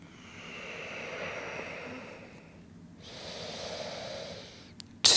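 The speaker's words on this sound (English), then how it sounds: "Breathing deeply and slowly." Slow deep breaths during an intermediate inverted yoga flow, two long airy exhales and inhales close to the microphone, soft and steady with a brief pause between them.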